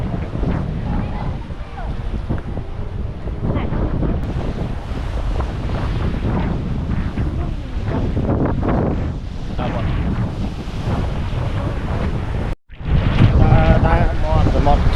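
Wind buffets the microphone at the seashore of Kampot and Kep in Cambodia, over a constant roar of waves and surf, with a brief dropout near the end.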